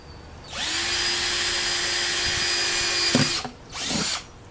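A power drill bores drainage holes into a homemade bonsai dish, running in one steady, loud whine for about three seconds, then a short pause and a brief second burst near the end.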